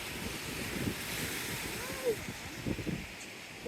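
Sea waves wash steadily onto the shore at Treasure Beach, Jamaica, a broad surf hiss mixed with wind noise on the microphone, while voices talk faintly over it.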